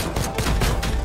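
Gunfire in the action video game Anno: Mutationem rattles in a dense, continuous burst of rapid shots, loud and close, with no voices over it.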